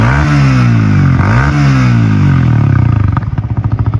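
A modified Yamaha R15 V3 with an aftermarket exhaust revs loudly and close. The engine note climbs and dips in repeated sweeps, then breaks into a rapid, pulsing exhaust burble at high RPM.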